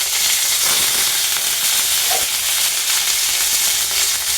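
Dal sizzling in hot oil with cumin, mustard seeds and curry leaves, a loud steady frying hiss with faint crackles, close and continuous throughout.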